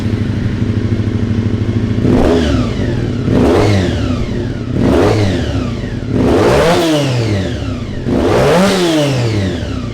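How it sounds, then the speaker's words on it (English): A 1987 Honda NSR500 racing motorcycle engine revs hard in repeated loud bursts, each rising in pitch and falling back to a rough, buzzing two-stroke idle, heard close and alone. "we'll rev up the tacho"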